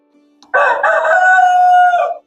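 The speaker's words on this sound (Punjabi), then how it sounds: "ਮੁਰਗੇ ਸਾਰੇ ਹੀ ਹੁਣ ਵਾਂਗਾ ਵੀ ਦੇਣ ਲੱਗ ਪਏ" A rooster on a poultry farm crows once, close and loud: a single sustained call of about a second and a half that rises and then holds steady, with no talking.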